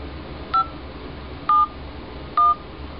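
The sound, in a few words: telephone dialing tones on Google Hangouts dialer pad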